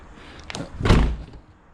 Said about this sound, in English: I don't know if I can close my door.